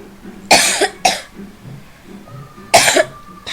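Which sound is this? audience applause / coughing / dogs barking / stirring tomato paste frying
coughing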